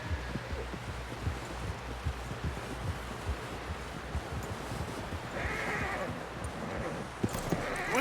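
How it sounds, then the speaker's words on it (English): Horse neighing with steady clip-clopping hooves in Red Dead Redemption 2, the hoofbeats running continuously and a whinny rising near the end over rustling background noise. "Someone help John down off this horse."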